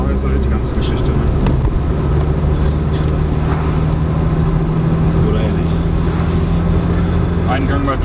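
A VW Lupo 1.8T GT30 with 335 PS pulls hard through a gear, its engine a loud, sustained roar from inside the car, with people talking over it.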